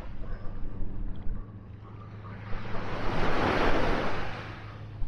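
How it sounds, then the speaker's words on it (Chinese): Ocean surf at Patong beach in Phuket, a steady wash of waves rising into a broad crashing swell midway, with low wind rumble on the microphone throughout. "这边还可以，还有点浪，这个比较好"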